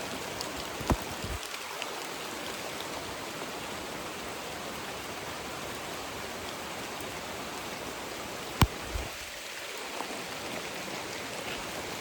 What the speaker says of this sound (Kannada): ಮಳೆ ಜೋರೇ ಆಗ್ತಾಯಿದೆ, ಬೇಗ ಕಿತ್ಕೊಂಡು ಹೋಗೋಣ.